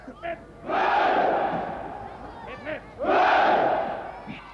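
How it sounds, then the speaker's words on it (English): A regiment of soldiers gives a ceremonial cheer at a royal visit in West Berlin, two loud massed shouts from many voices, each swelling and fading, with a commanding call heard before each. "And a regimental cheer."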